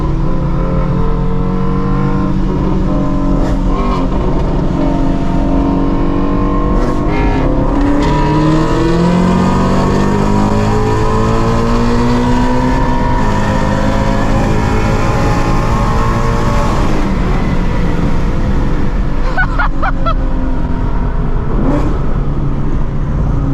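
Shelby GT350 cars accelerating hard in a street race, engines roaring loudly with rising and falling revs through gear changes, close and continuous for the whole stretch.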